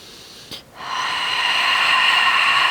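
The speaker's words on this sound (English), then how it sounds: "So let's breathe here." A person doing a hamstring and abs exercise takes a short sharp inhale through the nose, then lets out a long, steady, breathy exhale that holds close and even to the end.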